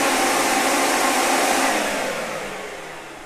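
A 16-gallon Ridgid shop vacuum used for dust extraction in a woodworking shop runs loud and close with a steady broadband roar, then its motor winds down and fades toward the end.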